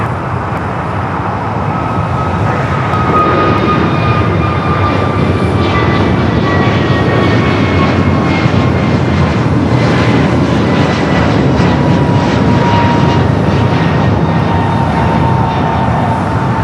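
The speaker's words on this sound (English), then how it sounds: "Next takeoff is that flight to Philadelphia. American Airlines flight 1918, A321neo." An American Airlines Airbus A321neo takes off at LAX, a loud sustained jet roar with a rising engine whine that holds steady across the whole stretch, broad and close with no voices over it.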